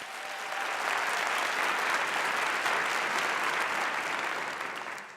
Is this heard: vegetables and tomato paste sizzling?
no